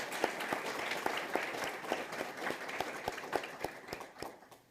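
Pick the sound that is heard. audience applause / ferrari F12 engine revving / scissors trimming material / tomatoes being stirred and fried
audience applause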